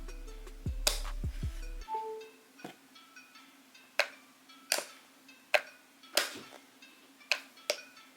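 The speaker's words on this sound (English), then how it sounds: "So you can hear moving magnets right there" Magnets shifting inside an Apple MagSafe battery pack, a series of small sharp clicks and ticks spaced irregularly, quiet and close, after a brief low thud at the start.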